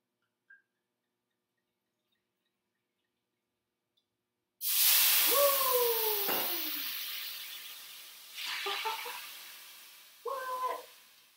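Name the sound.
wine poured into hot scallop pan, sizzling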